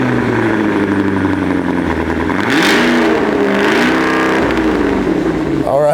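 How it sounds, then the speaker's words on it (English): The supercharged 682-horsepower V8 of a Cadillac Escalade V SUV revs hard, rising and falling in pitch with a deep throaty exhaust roar, loud and close throughout. "supercharged V8 making 682 horsepower."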